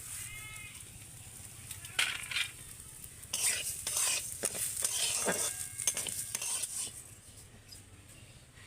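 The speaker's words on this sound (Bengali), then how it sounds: "মুগের ডালটা এখন তেলের মধ্যে দিয়ে ভালো করে একটু ভেজে নেব" Mung dal fries in oil in a wok while a spatula stirs it: repeated scraping strokes over a steady crackling sizzle, heard up close with no one speaking.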